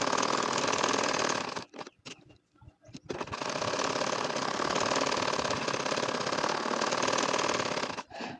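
A household sewing machine stitches a nakshi kantha quilt design, running loud and close with a fast, steady mechanical hum and clatter. It stops briefly twice, then resumes for several seconds.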